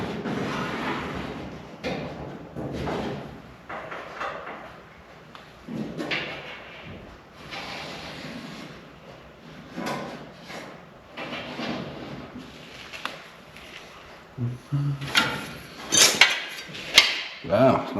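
Metal trimmed for a '55 Nomad tail light gives off scattered clanks, scrapes and taps of tools at close range, growing busier and louder toward the end.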